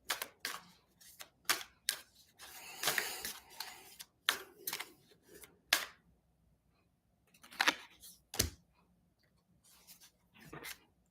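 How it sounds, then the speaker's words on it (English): Playing cards pulled and shuffled in a quiet room, with a run of short, crisp riffling and sliding bursts separated by brief pauses, close and fairly soft. "I'm still pulling cards."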